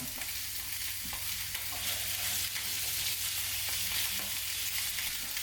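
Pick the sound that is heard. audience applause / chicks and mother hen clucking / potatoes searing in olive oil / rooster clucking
potatoes searing in olive oil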